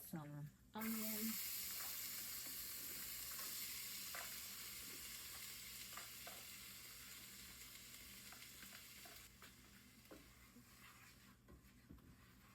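Onion hits hot oil with burned turmeric in a pan for lentil soup, a loud burst of sizzling at the start that settles into a softer, steady frying hiss with occasional stirring clicks.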